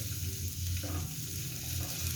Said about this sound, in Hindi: अब इसमें प्याज ऐड करेंगे और प्याज को भी हल्का सा पकाएंगे